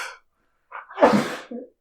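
A single loud, close sneeze preceded by a short sharp intake of breath, followed by a brief exhale, with a moment of silence before it.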